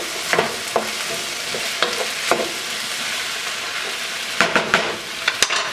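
Peppers and onions fry with celery in a pan, a steady close sizzle running throughout, punctuated by intermittent scraping clicks of a utensil stirring the vegetables.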